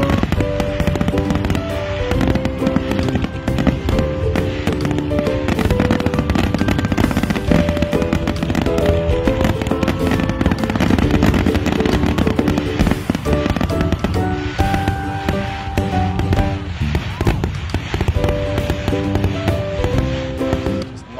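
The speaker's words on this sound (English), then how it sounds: "Seems like everyone is ready for the return of fireworks to Clawson" Fireworks exploding at a Fourth of July celebration in Clawson, a steady dense crackle of bursts running throughout under a loud, busy crowd backdrop with tonal music-like layers.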